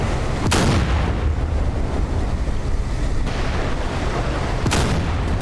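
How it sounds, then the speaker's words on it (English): A missile launch in the DCS World combat flight simulator during a Russia–Ukraine wargame, a loud continuous rushing roar with a few sharp cracks over it, dense and close throughout, no talking. "Missile going out."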